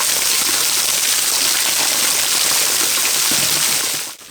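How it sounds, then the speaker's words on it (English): Largest waterfall in the High Weald, East Sussex, in winter after heavy rain: a steady, loud, broadband rush of falling water roaring continuously without a break, with no voices. "This is the largest waterfall I've found so far in the High Weald."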